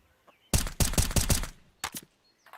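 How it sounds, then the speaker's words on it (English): Rapid bursts of automatic gunfire in CS:GO shot through smoke, a dense run of close, loud shots followed by a short pause and a second brief burst, then a faint final pop. "Tries to threaten the terrorist side a little with those shots through smoke"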